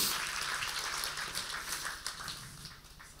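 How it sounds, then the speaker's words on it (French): A church audience applauds as a man named Steve is introduced, a soft, continuous patter of clapping that fades slightly toward the end. "Je vous présente Steve. On peut l'applaudir."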